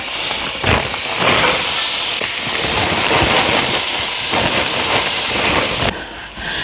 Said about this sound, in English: I'm going to add my onions in.